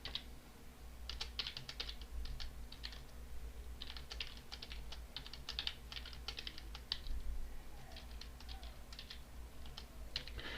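Keys clatter on a computer keyboard as numbers are typed in bursts of quick taps separated by short pauses, close and moderately quiet, without speech, over a low steady hum.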